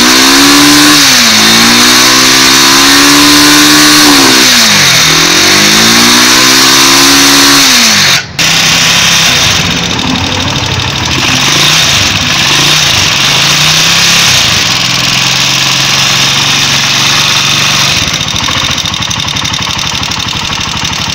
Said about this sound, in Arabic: هنيجي كده نزود بنزين ونشوف التقطيع اللي كانت موجوده.